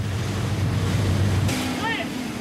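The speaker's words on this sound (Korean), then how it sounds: "4~5m의 파도면 배가 자기 몸을 지탱할 수 없는 상태다." Heavy ocean swell of four to five metres batters a mackerel fishing boat at sea in the pre-dawn dark. It comes as a continuous loud roar of wind and surging water, with rumbling lows and brief creaking tones near the end.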